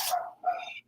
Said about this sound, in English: It's a bulldog, English bulldog.